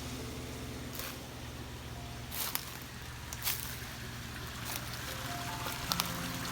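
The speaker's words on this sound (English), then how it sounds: "There, a little waterfall." A little waterfall near a mountain cabin gives a constant rushing, splashing wash of water, moderately distant, with a few faint knocks.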